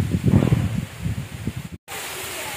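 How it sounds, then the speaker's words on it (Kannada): Strong gusts of wind buffet the microphone outdoors in uneven rumbling bursts, with a rustling hiss underneath, before the sound cuts out abruptly and returns as a steadier rush. "ತುಂಬ ಅಂದರೆ ತುಂಬ ಗಾಳಿ ಬೀಸ್ತಾ ಇದೆ"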